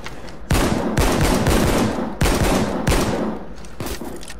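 Shotgun fire in the video game Payday 2: about six loud, sharp blasts at irregular intervals roughly half a second to a second apart, each with a short decaying tail, close and prominent.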